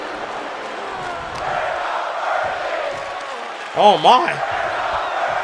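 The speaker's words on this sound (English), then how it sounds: "Crowd chanting, "We're not worthy" here in Milwaukee!" Arena crowd chanting at a WWE 2K25 SmackDown wrestling match set in Milwaukee, a steady broad roar of many voices running throughout under play-by-play commentary, with a brief exclaimed voice near the end.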